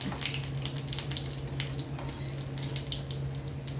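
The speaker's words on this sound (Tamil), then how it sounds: "கடுகு உளுந்தம் பருப்பு போட்டு இது கொஞ்சம் நல்லா பொரியட்டும்" Mustard seeds and urad dal spluttering in hot oil for rasam, giving a dense, continuous crackle of small pops over a steady low hum, with no talking.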